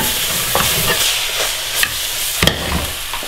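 Food fries in a pan while a spoon stirs it, giving a steady close sizzle with a few sharper scraping strokes against the pan. Nobody speaks.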